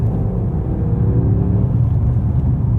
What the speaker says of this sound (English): this V8 just pulls and pulls, buttery smooth and zero turbo lag